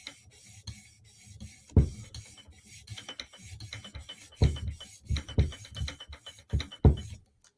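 A Chris Reeve Sebenza tanto knife blade is drawn across a sharpening surface toward a mirror edge, making close, rhythmic scraping strokes with irregular gaps between them and no speech.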